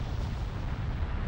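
Krakatoa's volcanic eruption explosion, with molten rock and gases trapped for two centuries bursting out in a documentary scene: a deep, loud, continuous rumbling roar that holds steady throughout, with no voices.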